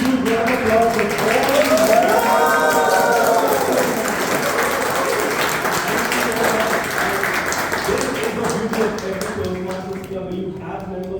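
Applause from a crowd at an anniversary meeting for veterans, sustained clapping throughout with speech over it and a speaker's voice continuing on top.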